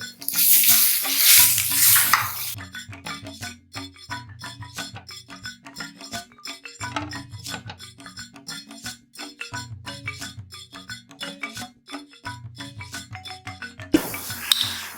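A spoon stirs yam roast in an oily, sizzling pan, giving repeated scraping and clinking strokes in bursts over a steady frying hiss, with no voices.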